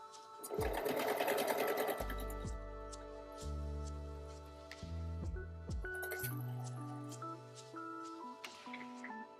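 A serger overlocker runs in short, fast mechanical bursts while stitching a denim jacket, close and fairly quiet, with clinking and shifting pitches between the runs and pauses.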